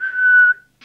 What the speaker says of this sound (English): Just do a quick whistle.